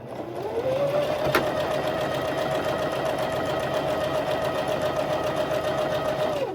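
A sewing machine stitches a seam on an August top bodice, a steady whirring hum with a rising motor tone that holds evenly for several seconds, marked by one brief click.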